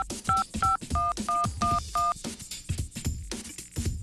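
Telephone keypad dialing tones ring out as a girl dials a number, a quick run of six short even beeps followed by softer sounds from the call, all fairly close and clear with no talk.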